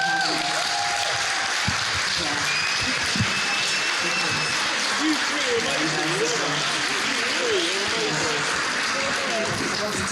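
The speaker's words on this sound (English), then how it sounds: "Yeah, a round of applause." Sustained applause from a conference audience, steady and dense throughout with some voices and cheers mixed in.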